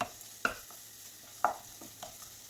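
Spices with salt and turmeric are sautéed in a pan, a few sharp spoon taps and scrapes spaced about a second apart over a faint quiet sizzle, with no talk.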